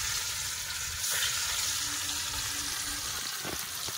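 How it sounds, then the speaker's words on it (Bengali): Fish and pointed gourd frying side by side in hot oil, a steady broadband sizzle with a few faint clinks near the end, close and continuous, no talking. "এই পাশে মাছ ছাড় দিচ্ছি, আমি এপাশে পটল ভাজা করে নিচ্ছি।"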